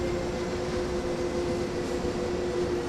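A German regional train in Train Sim World 2020 slows under full service braking on the Main-Spessart line, a steady close rumble with a faint sustained tone throughout.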